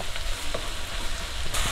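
Onions frying and being stirred in a pan while making an egg roast, a steady close sizzle with soft scraping stirs and a louder clatter right at the end.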